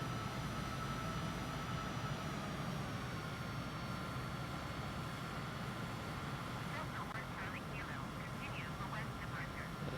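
An airplane rolls down the runway and takes off in a flight simulator, its steady engine drone continuous and fairly loud throughout, with faint clicking and chirping sounds appearing near the end.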